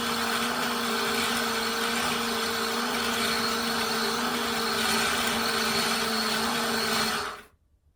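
An electric bobbin winder spins to wind a sewing bobbin, giving a steady, close motor whir with a constant pitch that cuts off abruptly just after seven seconds.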